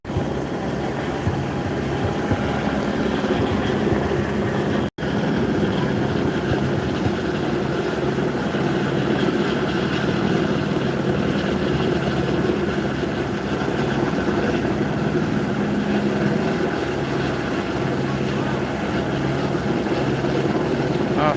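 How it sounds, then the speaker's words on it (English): A helicopter hovers over a downtown Los Angeles encampment, giving off a steady, loud rotor rumble that holds throughout with only a brief dropout, over a dense backdrop of street noise. "a helicopter spotlighting the encampment at times"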